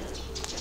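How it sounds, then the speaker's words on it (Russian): Pigeons at a bird park, a soft cooing and chirping heard close by over steady outdoor background noise, brief and continuous. "Ой, птички."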